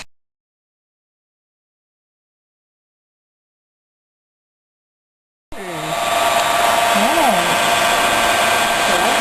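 A hot air tool blasting outdoors to melt plastic interfacing, its steady loud whooshing roar starting abruptly after several seconds of silence and continuing with a faint wavering whine.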